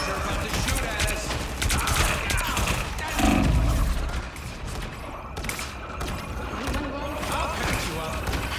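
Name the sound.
gunfire in Fortnite video game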